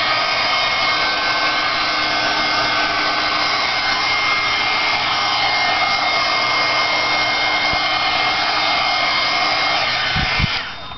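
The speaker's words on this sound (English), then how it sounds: "I'm going to hit it with my heat gun real quick." A heat gun roars in a loud, constant blowing hiss for nearly the whole stretch, drying a coat of wax on a vintage tray, with a couple of soft knocks just before it stops.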